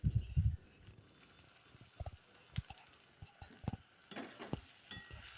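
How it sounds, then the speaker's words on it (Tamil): Egg fried rice with curry leaves being stirred in a pan, intermittent scraping and clinking strokes over a faint sizzle, close and fairly quiet. "சேர்த்து எல்லாம் மிக்ஸ் பண்ணிட வேண்டியதுதான்"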